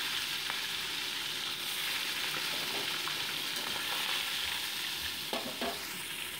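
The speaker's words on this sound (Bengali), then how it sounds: "এবার কড়াইতে সর্ষের তেল গরম বসিয়ে মাছগুলোকে আমি কিন্তু একে একে ভেজে নিচ্ছি" Bhola fish pieces fry in hot mustard oil in a wok, a close, continuous crackling sizzle with occasional soft clicks and scrapes as the pieces are turned, no talking.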